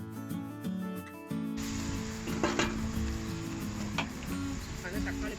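Ingredients sauté in a pan for Tamil-style pepper crab curry, a loud steady sizzle with a stirring scrape now and then, close and continuous.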